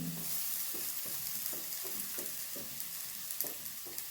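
Chopped green chilli, capsicum and beetroot being stirred in a pan for a kodo millet soup, a soft steady sizzle with repeated scraping stirs of the spoon, no voices.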